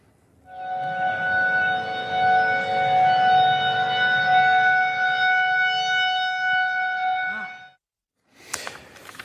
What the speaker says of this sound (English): they have tornado sirens that they are required by law to test on a weekly basis